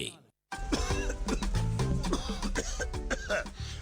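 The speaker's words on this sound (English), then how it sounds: "this cough is serious" A person coughs repeatedly in harsh, close bursts, mixed with throat clearing and voices nearby.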